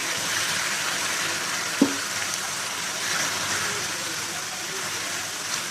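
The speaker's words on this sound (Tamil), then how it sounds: "இப்போ வந்து நம்ம அடுப்பை ஆஃப் பண்ணிவிட்டு தண்ணி ஊற்றிக்கலாம்" Water poured into hot sugar syrup gives a steady, close hissing sizzle, broken once by a brief clink.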